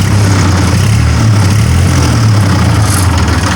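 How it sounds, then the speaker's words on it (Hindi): A 2002 New Holland Ford 3230 tractor engine running loud and close, its low drone rising and falling slightly in pitch as it is revved a little. "और मैं थोड़ा सा रेस देता हूँ इसका।"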